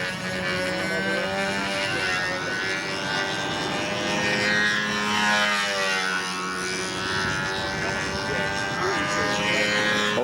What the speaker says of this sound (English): And there we have Jose Modesto, and he's flying Miss Ashley, and looks like the wind is finally coming up